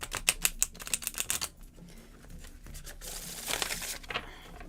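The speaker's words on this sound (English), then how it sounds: "I am in the mood to muscle my decks into shuffling." Rapid papery riffling and flicking, a burst of crisp clicks then a softer ruffling, like cards being shuffled close by with no talking.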